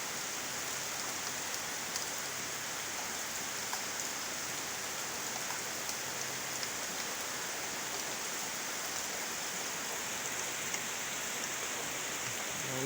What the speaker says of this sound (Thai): ภาคใต้ฝนตกทั่วเลย